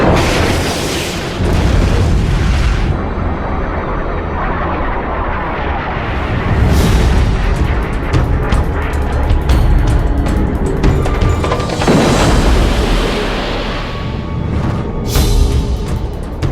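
A Sidewinder missile explodes in a MiG's tailpipe, a loud, sustained, rumbling blast with booming swells and crackling bursts that roll on for several seconds.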